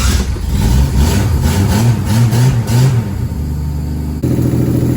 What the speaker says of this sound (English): Well, it still has horrible exhaust leaks, but it sure sounds better, doesn't it?